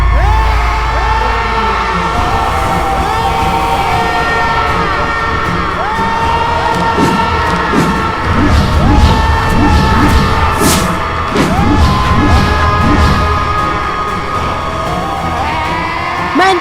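Loud screams and shrieks from many voices, an overlapping chaotic din of wailing cries with crashes and bangs, sustained and close throughout a dramatic mythological scene set at a village.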